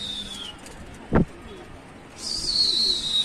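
Pigeons in a rooftop loft give soft, faint coos over quiet background, with a brief thump midway and a brighter hiss rising toward the end.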